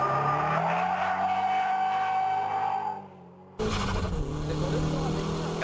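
A car drifts in a GTA video game with a loud, sustained tire squeal and engine roar that cut out briefly, then resume for the rest of the clip.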